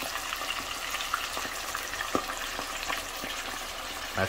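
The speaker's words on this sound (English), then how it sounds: "Deep fry. Deep fry." Buffalo fish deep frying in hot oil at about 360 degrees, a steady close sizzle and crackle with a few sharper pops, with no talk.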